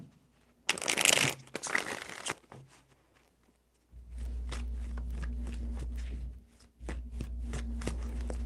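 Tarot cards get a single close, crisp shuffle lasting under two seconds, followed by a steady low hum that runs, with one brief break, through the rest of the clip, and no talking.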